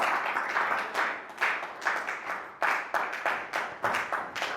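A church congregation at a Sunday service claps in a rhythmic, pulsing pattern. The bursts of many hands swell and fall in regular beats, moderately loud and filling the room, with no voices over them.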